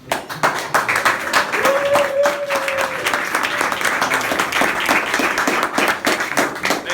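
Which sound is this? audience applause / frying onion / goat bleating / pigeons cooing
audience applause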